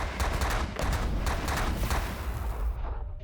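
Ship weapons firing in The Last Federation, a rapid stream of repeated shots pulsing steadily over a dense noisy background, loud and unbroken.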